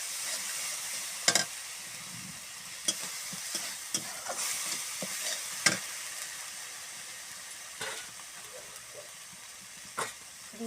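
Spices and red chilli powder fry with tomato paste in a hot pan, giving a steady sizzle broken by sharp scraping stirs and a few loud clacks of a spoon.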